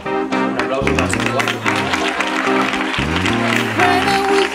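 Applause from diners at a 35th-anniversary celebration dinner, a steady burst of clapping that rises as a speaker is introduced, mixed with talk and background music.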